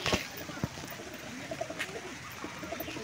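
Pigeons coo and call a few times during heavy rainfall, the birds close by over a steady wash of rain noise, with a voice speaking briefly in the background.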